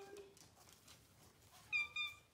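A cat meows once near the end, a short clear cry with a quick follow-up, after a quiet indoor stretch with faint background sounds.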